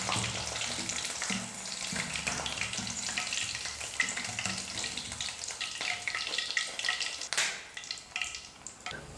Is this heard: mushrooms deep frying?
yes